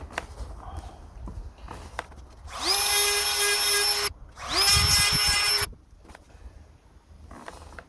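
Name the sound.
Dremel chainsaw sharpener sharpening a chainsaw chain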